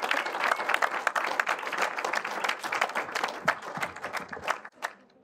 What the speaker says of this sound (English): So please can we have a massive round of applause for Francesca Reef Levy.